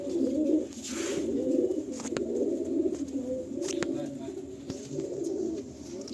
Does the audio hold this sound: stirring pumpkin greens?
no